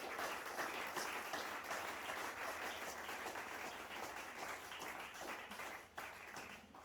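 A church congregation applauding together, sustained dense clapping that fills the room and fades slightly toward the end, heard from a moderate distance.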